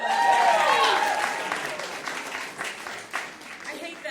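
Applause from a comedy show audience, a burst of clapping that starts strong and gradually thins out, heard in a room with some crowd noise.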